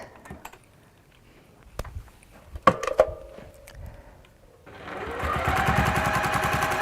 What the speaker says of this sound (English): I'm just going to sew across so that I don't have any raw edges showing